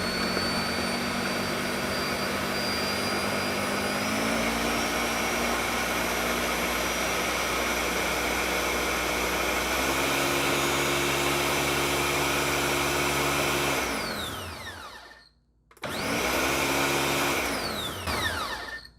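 A Ninja Professional Blender 1000 runs loud and close for about fifteen seconds, its motor whine stepping up in pitch a few times, then cuts out briefly and spins back up.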